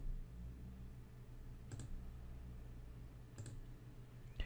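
Two sharp, isolated mouse clicks ring out while slicer items are picked in an Excel 2013 pivot table, faint and close against a quiet room hum.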